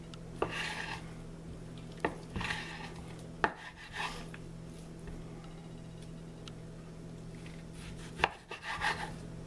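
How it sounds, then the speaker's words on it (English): Knife chopping beef brisket and filet mignon into small pieces for grinding, sharp separate thuds on a cutting board, spaced irregularly and close, over a faint steady background hum. "we're going to chop the meat small enough to get it in the meat grinder"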